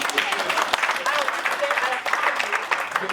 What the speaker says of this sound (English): Can we have an applause for this man